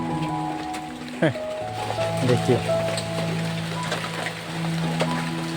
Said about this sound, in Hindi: देखिए बारिश तो बारिश आती है, कितना टाइम लगेगा बारिश रुकने में।